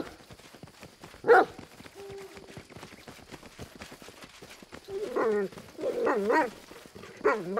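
A dog barks in the fantasy role-playing game Pathfinder: Kingmaker, several sharp barks and whimpery yelps arriving mostly in the latter half, with a brief louder burst early on over faint game ambience.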